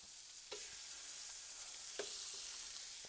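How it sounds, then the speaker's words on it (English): Lemon slices sauté with aromatics in a hot pan, a soft steady hiss that jumps louder at a couple of points as the pan is stirred or jostled, no voices. "Okay, I'm gonna saute these up for a little bit"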